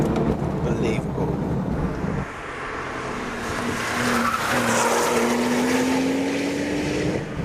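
A Porsche 911 GT2's twin-turbo engine pulls hard in fourth gear, a steady rising drone with a climbing tone under road and tire noise, heard from inside while someone talks over part of it.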